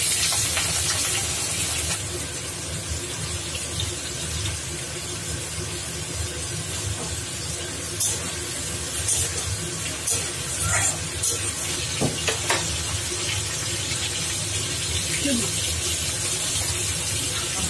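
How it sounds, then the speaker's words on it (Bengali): Potatoes frying in a pan for a home-cooked mutton and potato curry, a steady broadband hiss and sizzle running throughout, with faint clinks and a quiet voice at moments. "এবার ভেজে নিচ্ছি।"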